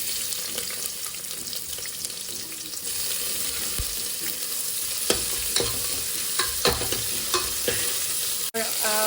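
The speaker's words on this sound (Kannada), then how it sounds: "ಒಂಚೂರು ಫ್ರೈ ಆಗ್ತಿದೆ ಅಂದಾಗ ಈರುಳ್ಳಿ ಹಾಕೋಣ" Onions fry in coconut oil with mustard seeds and crushed garlic, a constant close sizzle broken by stirring scrapes and several sharp clinks of a spoon against the pan.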